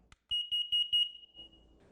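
A carbon monoxide alarm with a certification mark goes off during a gas test in a sealed space, giving a rapid series of five loud, shrill beeps that run into a short steady tone and fade to a faint hum.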